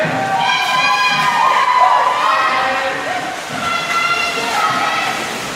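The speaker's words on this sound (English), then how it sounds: "you'll see the ladies down at the far end cheering their teammates on." Girls cheering on their teammates from the far end of a high school swim meet pool, a continuous crowd of high shouts and calls that echo through the indoor natatorium.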